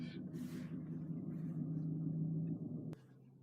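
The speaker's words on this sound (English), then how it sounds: "there's the big noisy truck behind" Big noisy truck idling close by at a vehicle charging spot, a steady low rumbling drone that holds for several seconds, with a short sharp click near the end.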